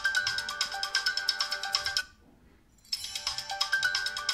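A Samsung Gear S3 Frontier smartwatch plays a tinny, ringtone-like electronic tune through its small speaker, a rhythmic pulsing melody that cuts out for about a second before resuming, no talk.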